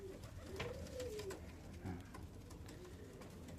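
Pigeons coo softly in a few low, throaty phrases against a steady outdoor background hum.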